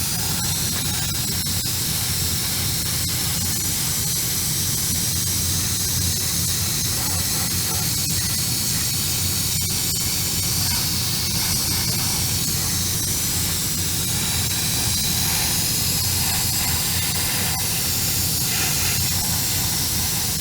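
Satin gloss varnish sprays steadily over a Billing Boats St Canute model boat hull and its bulwarks, a continuous loud hiss with no pauses throughout.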